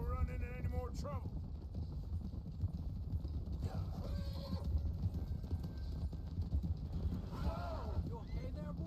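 Steady clip-clop of horse hooves in Red Dead Redemption 2 under wind and rumble, with a horse whinnying a couple of times near the start and end.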